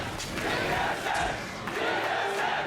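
An esports arena crowd roars and cheers during a League of Legends match between Enemy eSports and TSM, a loud, sustained wall of voices.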